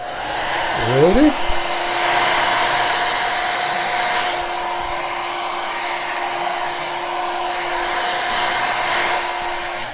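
A hair dryer blows steadily and loudly, close up, over a paint backsplash; its whirring tone holds even for several seconds, and a brief rising whine at the start marks it switching on.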